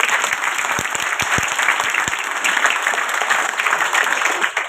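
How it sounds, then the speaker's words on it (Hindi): A large seminar crowd breaks into steady, loud applause, a continuous wash of many hands with sharper individual claps standing out near the start, lasting throughout. "अगर नहीं है तो ताली बजा दो एक बार"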